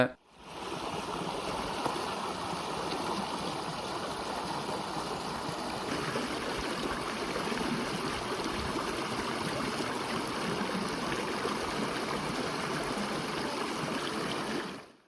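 River water flowing past a fishing net set across the stream, a steady close rushing babble that holds at an even level throughout.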